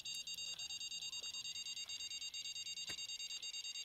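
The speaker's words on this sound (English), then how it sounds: "Assuming the beeping doesn't make me insane." An alarm beeps rapidly and continuously in the Fishing Planet fishing game, a fast regular series of short high electronic tones repeating steadily at a moderate level, with faint background sounds and no talk.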